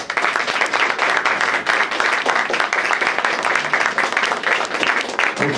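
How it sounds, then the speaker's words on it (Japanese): A crowd at a live noise music battle final claps loudly as a judging vote, dense continuous applause filling the room and holding steady throughout. "歓声ではなく拍手でお答えください"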